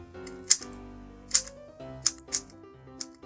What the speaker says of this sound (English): I can feel it working in as I'm doing these first turns